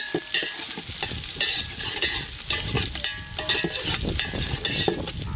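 Mustard seeds and green chilies frying in hot oil in an outdoor village kitchen, a loud crackling sizzle broken by repeated scraping stirs of a spoon against the pan.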